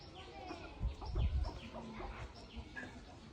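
Chickens clucking faintly at a distance, short scattered calls over outdoor background noise with some low rumble.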